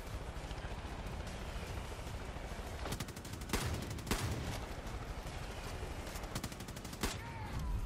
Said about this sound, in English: I sniped him with the shotgun.